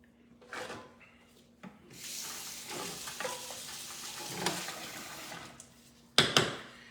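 Water is poured into a sweet aguas frescas in a container, a broad splashing gush that swells and fades over several seconds, followed by a sharper burst near the end, with no talking.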